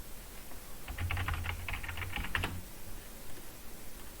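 Keys clatter on a computer keyboard as a terminal command is typed, a quick burst of close clicks for about a second and a half, then a few final taps before quiet.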